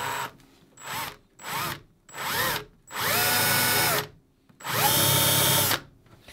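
Power drill bores a 3/8-inch countersink hole into a wooden dory hull, running in several short bursts that grow into two longer sustained whines, close and loud with brief pauses between.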